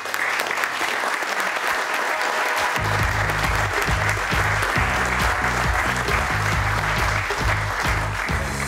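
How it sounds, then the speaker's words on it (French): A ceremony audience at an award event for laureates of a professional order claps steadily throughout, with a low rhythmic music beat joining beneath the applause partway through. "Je vous prie d'applaudir nos lauréats qui font honneur à notre profession."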